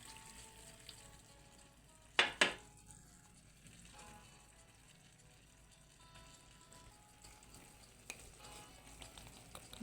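Soy sauce hits a hot pan of chicken liver and gizzards in a short, sharp double burst of sizzling, then a quiet, steady frying hiss continues underneath.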